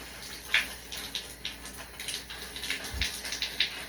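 Shower water runs and splashes in irregular bursts while a dog is being soaked, a close, moderate patter with occasional louder splashes and a dull thump.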